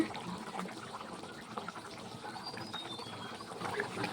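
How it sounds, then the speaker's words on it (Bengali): Meat curry gravy bubbling steadily in a pot, a soft continuous simmering hiss with faint watery pops, close but quiet throughout. "ঝোলটা কি সুন্দর ফুটছে"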